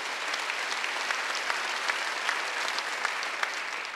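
An audience at a Wednesday evening church worship service bursts into sustained applause, a dense, even wash of many hands clapping at once, heard from slightly back in the room with no speech over it.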